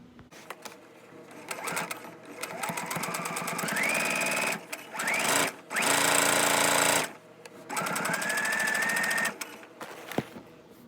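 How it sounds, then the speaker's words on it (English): A sewing machine stitches a fabric mask forward and then in reverse, its loud rapid whirring motor rising in pitch as it speeds up, pausing briefly between runs and ending with a few quieter clicks. "So I'm gonna stitch a little bit, and then I'm gonna backward stitch."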